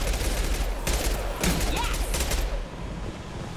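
Gunfire in the sci-fi shooter Mass Effect 2, with several loud bursts of rapid shots over a steady game background, then the firing stops and only a quieter ambient hum remains.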